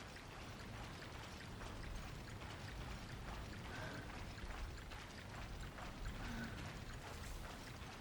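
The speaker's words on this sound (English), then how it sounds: "now you're surrounded by a shit ton of waterfalls inside of a cave system" Waterfalls inside a cave system in Monster Hunter Freedom rush as a faint, steady wash of falling water, continuous and even throughout with no talking.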